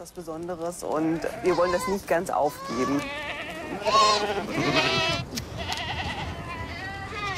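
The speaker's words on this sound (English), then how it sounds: "the women look after the goats" Bedouin goats bleating in the desert, several loud, wavering close-up bleats in quick succession that overlap and trail off into softer calls, with a voice talking over them.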